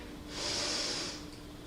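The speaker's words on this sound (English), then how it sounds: "Breathe in." One slow, audible breath drawn in through the nose during a stretching workout, swelling and fading over about a second, close and alone against a quiet room.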